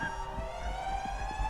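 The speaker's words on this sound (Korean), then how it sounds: "붉은색 전등과 사이렌 소리가 들리는데요" A continuous electronic siren wails in an eerie backrooms horror setting lit by red lamps, a steady high drone with layered harmonics over a low rumbling background.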